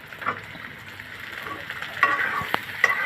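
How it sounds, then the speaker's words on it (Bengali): Shrimp, green chilli and beaten egg stirred in a hot pan, a soft sizzle under light scraping, with a few sharper clinks of the spatula against the pan. "এখন চিংড়ি, কাঁচামরিচ আর ডিম ভালো করে নেড়ে মিশিয়ে নিব"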